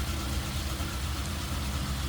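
The flathead V8 of a 1949 Ford Custom convertible, an 8BA with a single carb, idles smoothly. A steady, even low rumble is heard up close with no voices.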